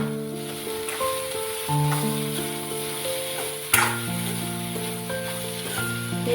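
Soybean momo batter sizzles steadily as it is sautéed in a pan, a continuous frying hiss with a sharp scrape partway through, while steady musical tones play underneath.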